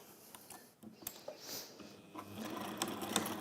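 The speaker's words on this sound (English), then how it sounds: "let's sew down the strip and across the bottom, and we'll get that lining done whilst my iron heats up" A sewing machine stitches down a lining strip and across the bottom, a fairly quiet, continuous mechanical whir with light rapid ticking.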